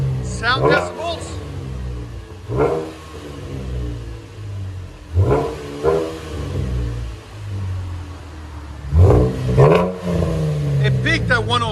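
Loud, close revving from a 2012 Chevy Camaro RS V6 with dual exhaust, a muffler delete and Flowmaster 10 Series Outlaw race mufflers. Four or five sharp throttle blips climb and drop back to a rumbling idle between them.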